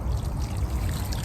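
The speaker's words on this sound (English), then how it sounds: "So you just take your hose pipe and you water around the root ball." Garden hose water pouring and trickling onto soil around a plant's root ball, a steady close gurgling splash with no pauses and no talking.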